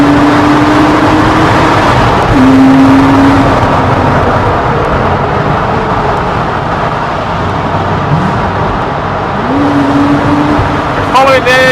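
A 2010 Porsche Cayman S 987.2 engine revs loudly inside a tunnel, its steady roar rising in pitch with several sharp bursts, while people talk over it in the car.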